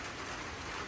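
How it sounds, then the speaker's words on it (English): Steady rain falls on a garden greenhouse, a dense, even hiss of drops on the surface with no pauses or voices. "everybody is loving this rain"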